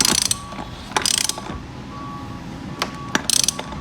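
Ratchet clicking in short bursts while a rear tire is tightened on a 1500W Venom E-Grizzly electric ATV during assembly; quick ratcheting strokes come close and fairly loud, with quiet pauses between them.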